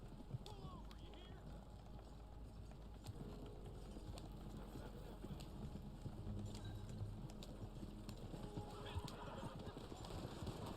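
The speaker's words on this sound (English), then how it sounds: "Stop those horses! Pull over, you hear?" Horses in the video game Red Dead Online clop and run under a steady rumble with a faint whinny, and a voice talks over the hoofbeats throughout.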